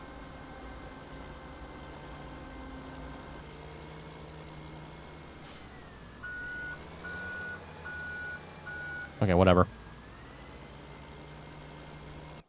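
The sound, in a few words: truck reversing beeps in Farming Simulator 17 video game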